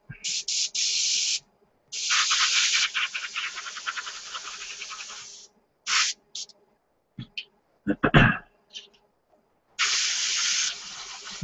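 An airbrush sprays paint onto a Tamiya 1:72 SU-34 model kit in hissing bursts of a few seconds each, separated by silences and small clicks and handling noises, close up.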